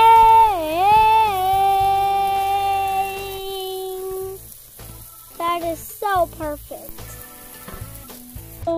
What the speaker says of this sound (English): Like that sizzling sound!